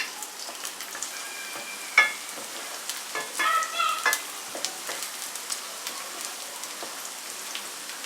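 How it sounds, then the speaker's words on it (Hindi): Ginger and garlic fry in a pan with a continuous soft crackle and sizzle, sprinkled with scattered pops and a few louder spatters, close by and without talk. "अदरक, लहसुन, इसको 2 मिनट के लिए अच्छे से फ्राई कर लेंगे।"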